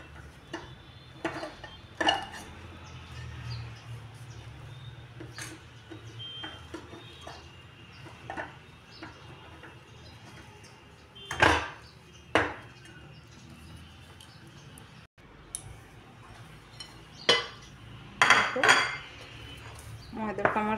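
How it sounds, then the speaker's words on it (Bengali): Kachori dough or filling stirred in a pan, with sparse metallic clinks and scrapes of a utensil against the pan, loud knocks now and then over quiet background. "এটা কিন্তু এইভাবে নাড়াচাড়া দিতে থাকতে হবে, আর নাই নিচে থেকে লেগে যাবে।"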